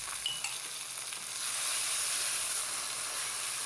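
About four spoonfuls of ginger-garlic paste hit onions already fried for four minutes for mutton keema pulao, raising a steady close sizzle that swells and holds loud after the first second.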